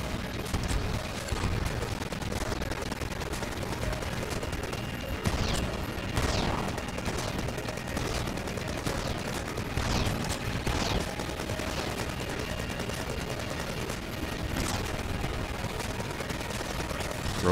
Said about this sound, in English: Now I'll throw the turret down.